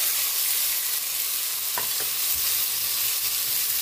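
Pork sizzles and fries in a hot pan, a dense, steady crackling hiss close up, with a couple of soft stirring knocks partway through.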